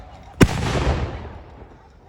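A cannon at Arundel Castle fires a single sharp, loud blast. A rumbling tail follows and fades over about a second and a half, with no talk.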